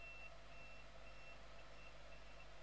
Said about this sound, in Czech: teď jsem vám chtěl nechat jenom to pípání